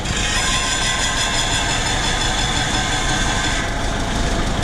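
A farm machine's engine runs steadily during first trials of pumpkin harvesting equipment, a loud continuous rumble with a rattling mechanical drone and a slight shift in tone near the end, no voices.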